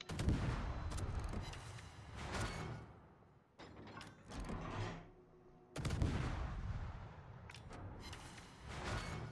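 Naval gunfire in the World of Warships video game, with heavy booming salvos at the start, around the middle and near the end, and a rumbling, clattering tail between them. No one speaks.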